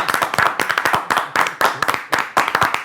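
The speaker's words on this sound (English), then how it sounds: "I gotta clap it up for this guy" A single person claps hands close up in quick irregular bursts of several claps each, loud and crisp with short pauses between groups.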